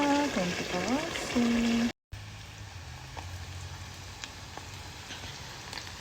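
Long sidra fish fry in hot oil, giving a steady crackling sizzle, like light rain, that continues close by. A short burst of voice and tonal sound comes first, and the sizzle runs alone after a brief cut.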